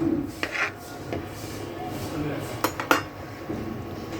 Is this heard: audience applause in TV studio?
no